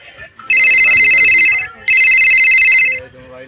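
A mobile phone ringtone blares loudly in two long electronic bursts separated by a short pause, close to the listener, with quiet voices before and after.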